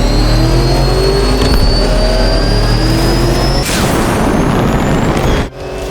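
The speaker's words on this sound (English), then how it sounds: "how does the Batmobile sound when it's on the road?" The Batmobile in the Arkham Knight video game drives on the road with a loud, steady engine roar that revs and shifts pitch. A sudden whoosh and thump come near the end, and no one speaks.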